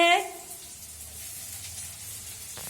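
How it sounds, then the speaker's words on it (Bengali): Onion, ginger and green chilli frying in a pan give a steady, moderate sizzle and hiss that carries on without a break after a brief clatter at the start. "পেঁয়াজ, আদা, কাঁচা লঙ্কা দিয়ে ভালো করে লাল করে ভেজে"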